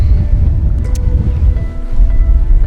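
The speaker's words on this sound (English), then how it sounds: "some waves breaking over there" Waves break and surge in a steady low roar near a sheltered sailboat during Hurricane Beryl, with heavy wind buffeting the microphone throughout.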